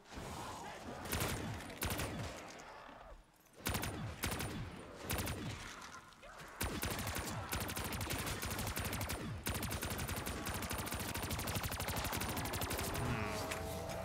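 Rapid gunfire in a zombies-map shooter game as shots are fired at paintings, bursts of sharp repeated shots broken by brief pauses, then sustained continuous firing, loud and close, with talk mixed in.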